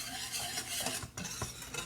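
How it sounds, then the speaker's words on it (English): A spoon stirs chocolate gravy in a pan on a stove set to high, soft scraping strokes over a faint bubbling simmer, close and quiet. "how that loose powder has incorporated in here, but you have to stir it"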